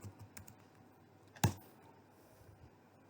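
A single sharp keystroke on a computer keyboard stands out against quiet room noise, with a few faint clicks around it, while an email host setting is entered in a G Suite admin console.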